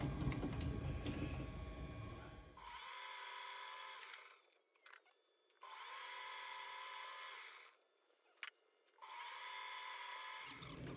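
A lathe turns metal stock down to 9/16 inch in three long steady bursts of metallic whirring, separated by short pauses, with a brief click between the runs.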